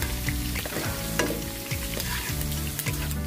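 Pork sizzles and crackles loudly in a hot pan while it is stirred, scraping utensil strokes repeating through a continuous close frying hiss.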